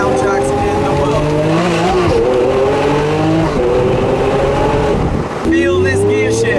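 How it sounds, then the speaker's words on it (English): A Lamborghini Aventador V12 revs hard and loud, its pitch rising steadily. A brief break marks a single-clutch gear shift, and then the engine climbs again under a faint voice. "Feel this gear shift."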